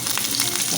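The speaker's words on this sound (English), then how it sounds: "I'm gonna put in my tomatoes" Tomatoes sizzling and frying in a hot pan, a steady close, broadband hiss with faint crackles throughout, no voices.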